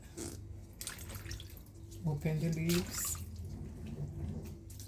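Tap water runs and drips as pak choy leaves are opened and rinsed under it, a steady near splashing with brief louder gushes midway and low background voices.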